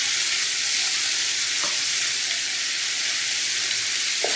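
Onions and dry spices frying in a pan for chicken lasagna, a dense, even sizzle that stays steady throughout, with a couple of faint utensil taps and no talking.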